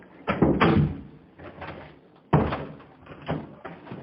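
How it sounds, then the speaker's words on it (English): Doors being shut one after another indoors, heard as a few separate close thuds and bangs with short pauses between them, fairly near and with no talking over them. "Shut all the doors"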